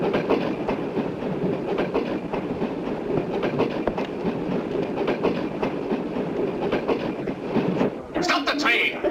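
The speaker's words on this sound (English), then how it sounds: "Stop the train!" Train running on rails in a 1972 horror film, a continuous rumbling clatter of wheels with rhythmic clicks, a voice talking over it and a sharp burst near the end.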